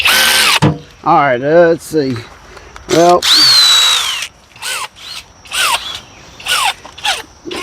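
Cordless power tool whirring in repeated short bursts and longer runs of rising and falling pitch during an automotive evaporator core replacement, with someone talking briefly between them.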